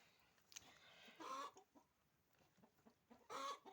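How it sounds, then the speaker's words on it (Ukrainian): A hen that has just laid an egg gives two loud, squawking cackles, one after the other, with quieter clucks in between in an otherwise calm setting. "Ось тут курка кричить, вона знеслася, але вона ще просто сидить"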